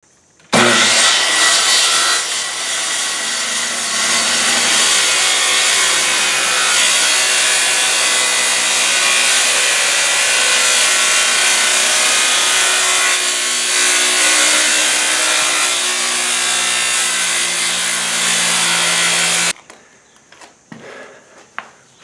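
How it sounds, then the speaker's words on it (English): A Makita circular saw with a worn carbide blade powers through old bowling alley wood studded with nails, a loud continuous grinding cut lasting nearly twenty seconds before abruptly stopping. "I'm going to use my trusty Makita circular saw, and I've got an old, relatively beat up carbide blade in there, and I'm just going to power through the cut"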